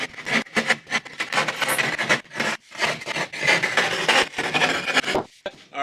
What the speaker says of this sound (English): that's where this guy comes in, your drywall hole saw